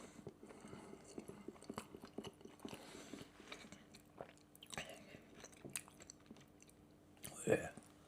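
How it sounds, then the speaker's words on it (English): Close, wet chewing and biting on a bacon and black pudding spicy sandwich, soft irregular mouth sounds over several seconds, with a louder crunchy bite near the end. "you start chomping through your sandwich"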